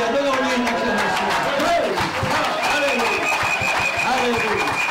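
A church congregation claps and cheers in acclamation, a dense, loud crowd sound with voices calling out over steady applause throughout.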